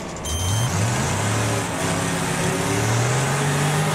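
A race car engine in the demolition-derby racing game Wreckfest idles and revs trackside, its low rumbling tone climbing in steady waves, loud and continuous throughout.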